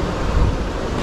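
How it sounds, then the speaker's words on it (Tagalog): Strong wind buffets the microphone near Maranum Falls in Natividad, Pangasinan, a steady low roaring rumble with a brief stronger gust partway through, loud and close with no talk. "Lakas ng hangin."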